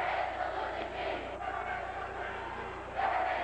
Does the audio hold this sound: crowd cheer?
yes